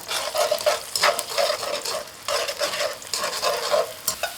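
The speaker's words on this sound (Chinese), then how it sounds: "锅中放油，油微热，放入蛋液，快速滑散" Beaten egg hits warm oil in a pan and is scrambled quickly, producing a close, lively sizzle that swells and dips in a rapid stirring rhythm.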